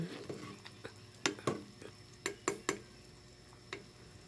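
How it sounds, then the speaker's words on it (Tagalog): Chayote pieces for chicken tinola go into a pot, with a faint sizzle under a series of spoon scrapes and clinks against the metal; no one speaks. "Ilagay na natin at half cook lang ang gawin natin dyan."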